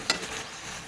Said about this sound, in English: And just mix it around.